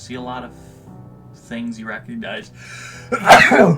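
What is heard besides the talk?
sneeze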